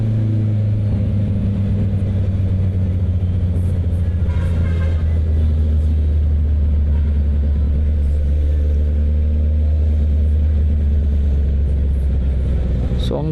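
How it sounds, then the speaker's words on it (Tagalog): Heavy rush-hour traffic in Metro Manila, heard from a Honda CB650R motorcycle filtering through it: a constant low engine rumble and idle drone with nearby car and truck noise, steady and close throughout. "Nagkumpulan ulit ang traffic dito."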